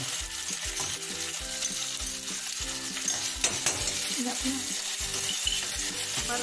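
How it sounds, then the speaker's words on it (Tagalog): Tomato paste sizzles steadily in a frying pan while being stirred, with a continuous close frying hiss and repeated soft scraping strokes, cooked before beef is added. No talking. "Gusto ko niluluto yung tomato paste bago ilagay yung ano, yung meat."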